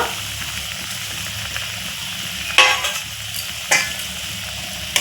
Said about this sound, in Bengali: এখন আমি ভেজে রাখা যে পাট পাতার গিটগুলো আছে এগুলো আমি দিয়ে দেব